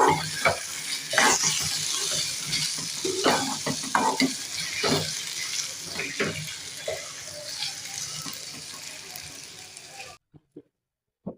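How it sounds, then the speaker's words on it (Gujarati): Sabudana stirred in hot oil in a pan, a continuous crackling sizzle with rhythmic scraping strokes, loud and close, then cutting off to near silence with a few faint knocks at the end. "સાબુદાણાને સારી રીતે મિક્સ કરી લેવાના છે"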